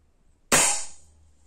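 A single quiet air gun shot from an Alpha or HDR: one sharp crack with a short fading tail, alone.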